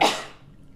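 A single sharp sneeze bursts out loudly at the start and fades quickly into quiet room noise, with no talking.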